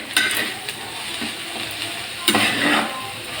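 Close sizzling of prawn paste frying dry in a pan, steady and bright, with scraping stirs and a couple of louder spatters.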